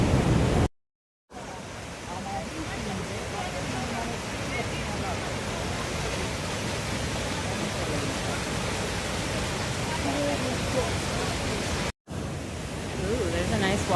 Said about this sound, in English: Ooh, there's a nice waterfall here.